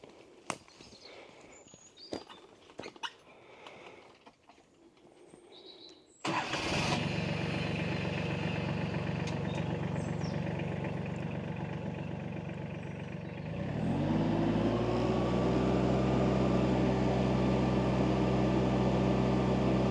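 A tractor's engine turns over and catches, then settles into a steady, loud running drone as PTO-driven equipment on a forest homestead spins up, with a rising mechanical hum layered on after a few seconds.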